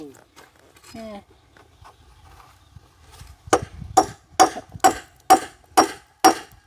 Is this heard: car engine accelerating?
no